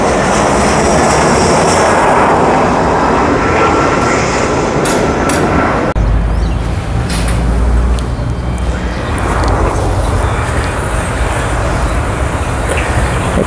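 An airplane passes low overhead on landing approach to Fortaleza airport, seen from Lagoa da Parangaba; a loud, sustained engine roar fills the whole stretch, shifting in tone midway as it goes over.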